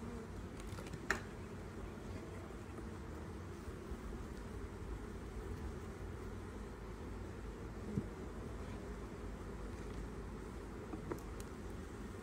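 A steady, low buzzing drone of many honeybees in an open hive with frames removed, continuous and close, with a few faint clicks.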